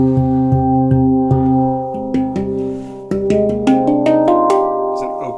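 Sonido da Mano handpan notes struck one after another, each ringing open with long sustain and overlapping tones, played alone at a steady, unhurried pace.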